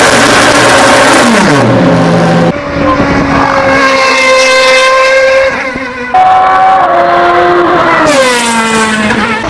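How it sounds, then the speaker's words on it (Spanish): Honda HSV010 race car engine screaming through high revs, loud and close, with sharp upshifts, falling pitch on lift-off and repeated climbs back up. "El Honda HSV010, que os he dicho mil veces que es de mis favoritos y probablemente el coche que mejor suena que he escuchado."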